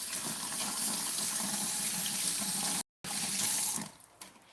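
Tap water pours steadily into a kitchen sink as hands are washed, a close, continuous splashing that cuts off briefly, resumes, then tapers away with a final few drips.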